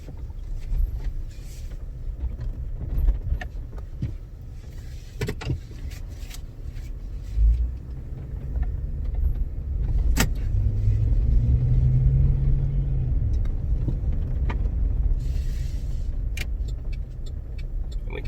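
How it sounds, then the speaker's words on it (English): A Chevy or GMC pickup with a 5.3 liter engine drives on a test drive, a steady low engine and road rumble filling the cabin throughout, with a few faint clicks and knocks and no talking. "let's go ahead and start this test drive"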